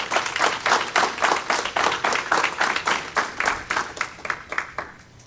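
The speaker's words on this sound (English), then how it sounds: "Give God a big hand clap, please." A church congregation at a Sunday morning service claps hands in a lively, rhythmic burst that gradually thins and fades away.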